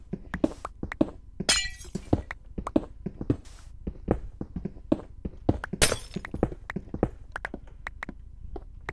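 Glass blocks being broken in Minecraft, a rapid run of sharp taps and thunks with several bright shattering crashes scattered among them, loud and close, no talk.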